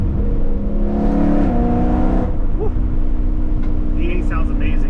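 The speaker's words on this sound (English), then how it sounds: "V8 sounds amazing as always" A BMW M3's V8 revs loudly up close during a canyon drive, a rising then steady engine drone with a brief lift in the middle. Someone talks briefly over it.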